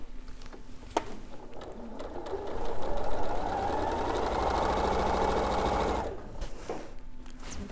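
A sewing machine runs steadily as it stitches a quarter-inch seam through quilt fabric pieces placed right sides together, a continuous mechanical whirr that swells mid-way and stops near the end, with light handling noises before and after.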